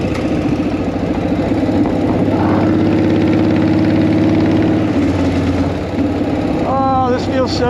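A 1940 Flathead motorcycle engine running close by, a loud, steady low throb with a slight dip partway through and a brief rising whine near the end.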